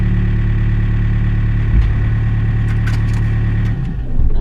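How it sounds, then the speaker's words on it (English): An excavator's engine idles steadily close by, a constant low rumble with no revving, shifting slightly just before it ends. "First time driving a excavator."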